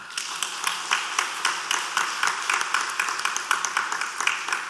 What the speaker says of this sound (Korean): 성도 여러분께서는 박수로 환영하시기 바랍니다.